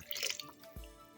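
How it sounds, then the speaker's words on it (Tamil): Water is poured into a pot of tomato sambar thickened with roasted gram, giving a brief, soft splash and trickle that ends in a dull low bump. "இப்போ நம்ம பொட்டுக்கடலை சேர்த்தா தண்ணியை சேர்த்துக்கலாம்."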